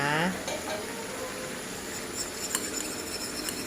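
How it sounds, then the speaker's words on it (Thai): Eggplant and minced pork are stir-fried in a pan, giving a steady soft sizzle with a brief scrape of a utensil at the start and faint metallic clinks later. "ผัดต่อจ้า ตอนนี้มะเขือเราก็ใกล้จะสุกเต็มทีแล้ว"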